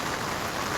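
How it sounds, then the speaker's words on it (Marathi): Heavy, unbroken rain pours down during a prolonged downpour that has flooded roads and swollen streams, a steady dense hiss of drops hitting surfaces close by with no pause. "कालपासून पावसाची संततधार सुरू आहे। आज तागायत देखील पावसाची संततधार थांबलेली नाही।"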